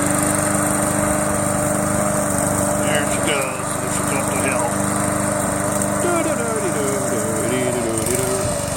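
A remote control lawn mower engine drones steadily and loudly up close, with a continuous buzzing roar that dips slightly midway, while someone speaks over it.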